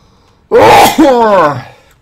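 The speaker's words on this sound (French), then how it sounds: "je vais éternuer maintenant." A single loud, close sneeze with a sharp voiced burst and a trailing vocal tail, in an otherwise quiet room.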